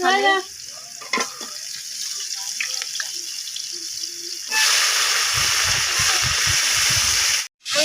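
Green chillies and chopped onion go into hot soybean oil in a wok, the frying bursting into a loud, close crackling sizzle halfway through after quieter kitchen clatter and a brief watery patch.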